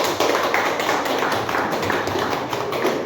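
Classroom of students clapping hands together in a steady, dense burst of applause, close and loud throughout with no voices over it.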